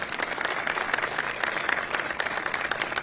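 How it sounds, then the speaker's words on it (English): Steady applause from a crowd at a presidential speech at a port, a dense patter of many hands clapping that holds at an even level throughout. "They deserve some applause."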